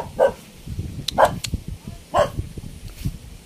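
A dog barks three times in short, separate bursts near a house entrance, with faint background noise between the barks.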